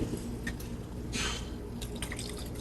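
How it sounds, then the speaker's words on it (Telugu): A glass of water splashes briefly into a pot for vermicelli payasam in one short pour, followed by a few light drips. "so one glass of water పోసుకోండి"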